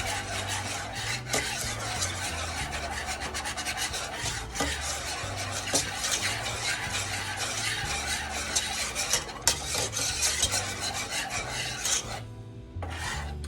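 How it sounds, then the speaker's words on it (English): A whisk works steadily through apple pie filling simmering in a pot, making a continuous scraping, rasping rhythm with bubbling beneath it, close and fairly loud for the whole stretch. "You want to let this simmer and continue to whisk it."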